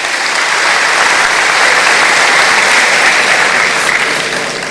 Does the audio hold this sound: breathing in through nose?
no